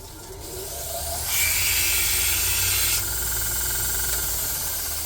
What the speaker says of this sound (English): I will take a coarse grit belt and I'm going to scuff this up